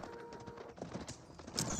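Knights' horses in the Age of Empires 4 strategy game, a brief run of hoof clip-clops with a horse snort or whinny, heard at moderate level against faint background game sounds.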